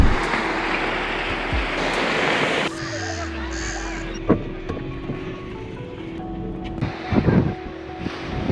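Broadband wind rush buffets the microphone, loud and steady, with a low roar of surf beneath and a few brief knocks, on a beach at Augusta, Western Australia.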